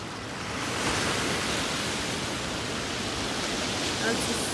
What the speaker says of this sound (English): I just made it to the beach.